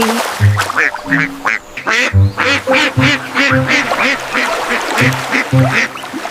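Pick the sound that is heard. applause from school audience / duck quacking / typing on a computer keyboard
duck quacking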